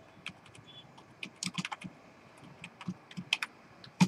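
Light, quick keystrokes on a computer keyboard while a Python program is typed, irregular soft clicks in short flurries with a few sharper key hits, close and quiet with no talking.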